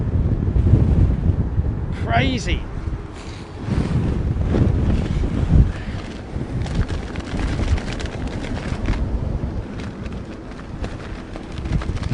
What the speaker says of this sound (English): You see that gust of wind just hit him.